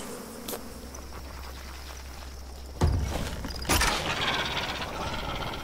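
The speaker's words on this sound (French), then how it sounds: "Du coup on balance des trucs des abeilles là." Swarm of bees attacking in the fantasy strategy game Massive Chalice, a steady low insect buzz with brief sharp impact bursts near the middle and again shortly after, no speech heard.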